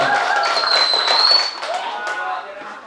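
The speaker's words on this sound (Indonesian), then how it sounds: "Tepuk tangan buat akang kita nih hari ini ya." Audience clapping at a mosque youth motivation event in Bandung, a brief burst of claps that fades after about a second and a half while people keep talking over it.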